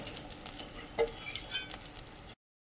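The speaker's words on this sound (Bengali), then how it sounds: "সেই জন্য একটু হালকা ভেজে নিচ্ছি" Paneer cubes frying lightly in a pan for mutter paneer, a soft low sizzle with a few stirring scrapes and a louder clink near the middle, fairly quiet and close, then abrupt silence.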